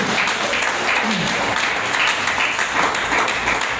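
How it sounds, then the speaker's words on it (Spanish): A church congregation breaks into loud, sustained applause for the Lord during a sermon, a dense, even roar of many hands clapping that fills the room for several seconds. "¿Cuánto damos aplauso al Señor?"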